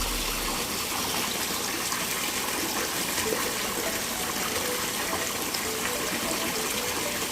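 Water pours steadily into a tilapia fish tank, an unbroken loud gushing and splashing that lasts throughout with no speech over it.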